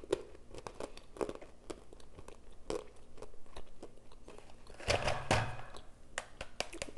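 An Argo cornstarch brick is bitten and chewed up close, giving dense crisp crunching and faint squeaky crumbling, with a louder burst of crunches near the end.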